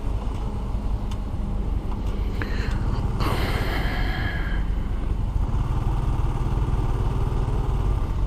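Continuous low engine rumble from a lorry on a road with roadworks ahead, idling and clattering at close range, with a brief brighter burst of noise partway through and no talking.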